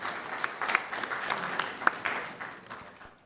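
Crowd applause at a Ghana Institute of Engineering launch event, a dense patter of many hands clapping, swelling and then tapering off over a few seconds.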